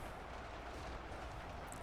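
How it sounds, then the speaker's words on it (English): Cannons fire repeatedly in a video game battle, a dense, steady rumble of distant booms rolling together with no clear gaps between shots. "But can those cannons keep them at bay?"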